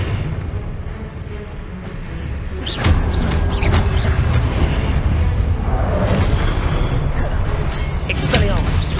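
Confringo explosion spells in Hogwarts Legacy: a sudden heavy boom erupts, then a sustained roar of crackling blasts and spell effects continues loudly, with voices mixed into the fight.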